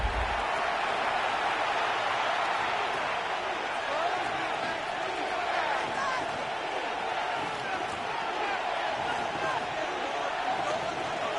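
Steady stadium crowd roar during a football video game broadcast on third down, a broad continuous wash of cheering that fills the whole stretch without letup.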